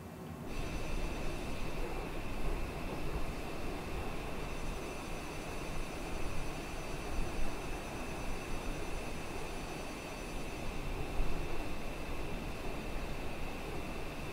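Steady jet engine drone from a Honda Jet in Microsoft Flight Simulator, a continuous broadband roar with a faint high whine that holds at an even level throughout, with no voices.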